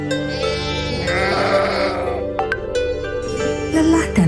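Sheep in a flock being herded home by a shepherd, bleating in several overlapping, wavering calls close by, one after another throughout.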